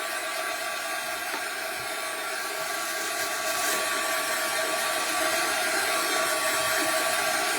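A hair dryer blows steadily on a paper image to dry it, a loud, continuous whooshing hum that holds constant throughout with no talking.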